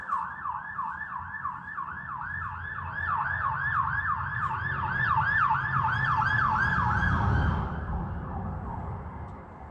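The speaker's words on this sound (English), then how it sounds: "State trooper coming down the road, lights and sirens." A state trooper police car siren wails in a rapid, rising-falling yelp as it comes down the road, loud and near with road rumble beneath, then cuts off abruptly.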